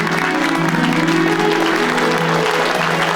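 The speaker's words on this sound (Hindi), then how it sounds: "बजाइए ताली और मचाइए शोर" Audience clapping at a Dussehra celebration, a dense steady wash of applause with a faint musical tone running underneath for the whole stretch.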